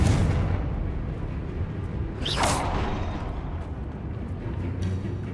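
A magic spell blast in the Hogwarts Legacy video game, a Bombarda or Confringo explosion, bursts into a loud whooshing boom midway over a dense, rumbling game soundscape, with no talking.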